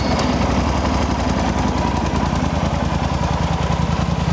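A Yamaha Super Tenere 1200 parallel-twin motorcycle engine idles loud and close with a steady, rapid throbbing pulse throughout, and no one speaks.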